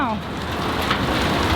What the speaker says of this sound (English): That's hailing good.